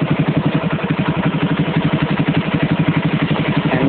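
A motorcycle with a Rextor CDI ignition idles steadily up close, its engine putting out a fast, even, pulsing throb with a light mechanical clatter and no voices.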